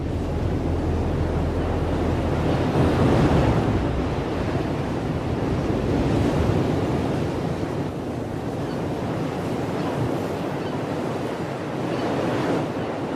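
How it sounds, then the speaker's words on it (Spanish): Strong wind drives heavy ocean waves onto the breakers along the Atlantic islands of Galicia, a loud, continuous roar of surf with rolling swells and wind buffeting the microphone throughout. "Los fuertes vientos que empujan toneladas de agua hacia las rompientes"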